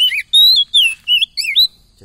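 Young oriental magpie-robin singing up close: a rapid series of bright, whistled, sliding chirps and trills in short bursts separated by brief pauses.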